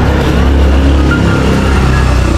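An idling motorcycle engine left running nearby, a loud, steady low throb with a continuous rumbling pulse and no speech over it.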